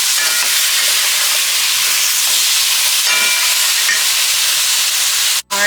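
Tomatoes and onions sauté in a pot for pork sinigang soup, giving a loud, steady sizzling hiss close up, with light stirring scrapes and a short dropout near the end.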